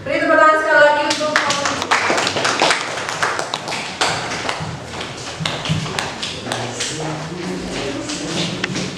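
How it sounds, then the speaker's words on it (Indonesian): Audience applause in a classroom presentation session, scattered claps and taps of varying loudness continuing for several seconds, with voices mixed in underneath. "Beri tepuk tangan sekali lagi untuk"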